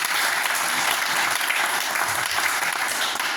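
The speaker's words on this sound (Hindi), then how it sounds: "डॉक्टर संजीव कुमार जी का एक जोरदार तालियां चाहूंगा" Loud, dense applause from an audience honoring Dr. Sanjeev Kumar, an organization's managing director, at an event; a continuous wash of many hands clapping throughout, with no voices standing out.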